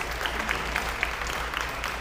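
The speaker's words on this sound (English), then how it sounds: "let's give a round of applause." An audience at the end of a monthly association meeting gives a round of applause, steady, moderately loud clapping lasting a couple of seconds with no voices over it.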